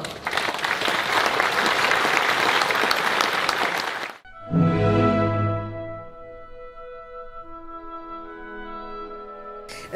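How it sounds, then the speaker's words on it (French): Audience applause at a classical music festival in Menton, dense and steady for about four seconds, then cutting off abruptly to give way to a resonant sustained piano-like tone that fades slowly. "je vous demanderai d'applaudir tout le personnel municipal qui fait ce travail"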